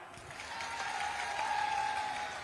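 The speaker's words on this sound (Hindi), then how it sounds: "अरे सही है तो ताली बजाओ।" A large crowd clapping at an election rally in Guna, Madhya Pradesh, a broad sustained patter of applause swelling slightly in the middle while a faint steady tone runs beneath it.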